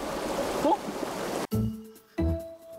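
A mountain stream in a deep forest valley rushes with a steady, close hissing wash for about a second and a half, then the scene cuts to quieter ambience, with a faint voice briefly audible.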